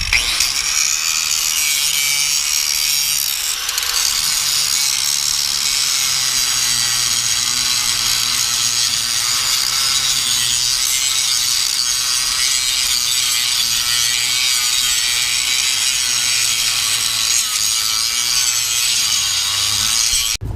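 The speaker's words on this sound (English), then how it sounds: "We're going to grab the grinder and we're going to grind off these plug welds." An angle grinder runs continuously and loudly, cutting plug welds off the steel shock tower of a Ford Bronco, with a steady high whine and rough grinding texture throughout.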